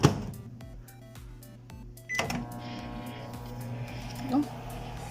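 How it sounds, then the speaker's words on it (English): A microwave oven runs while cooking potato slices in a Daiso microwave potato chip maker; a short clatter gives way to a steady, faint electrical hum. "It's time to microwave these."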